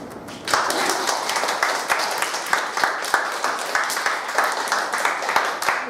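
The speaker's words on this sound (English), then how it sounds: "Let us applause to welcome them." Steady applause from an audience, dense clapping that starts abruptly and continues evenly for several seconds.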